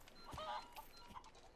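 A chicken clucks in the video game Resident Evil 4 Remake, a few faint short clucks and squawks heard at a distance over quiet ambient noise.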